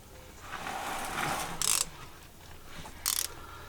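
A ratchet works the gearbox oil filler screw on a Skoda Octavia 3 manual transmission, giving two short, bright clicking bursts close by over a steady background hiss, with no talking.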